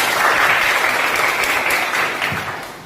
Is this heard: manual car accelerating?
no